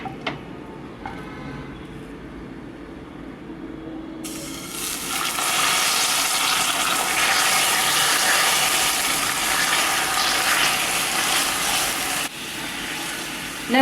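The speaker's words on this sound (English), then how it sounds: "and add water." Water poured into hot melted sugar in a pressure cooker sets off a sudden loud, steady hissing and bubbling rush that lasts about eight seconds, after a quieter start.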